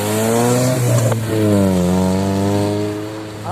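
A car that picked up hitchhikers runs loudly nearby, its engine droning and rising and falling in pitch as it revs and accelerates.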